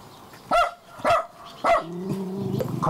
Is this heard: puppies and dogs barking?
yes